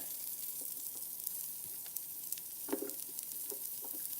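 Food chunks frying in a pan, a quiet, steady sizzle with scattered small pops and light stirring taps, fairly faint and without voices.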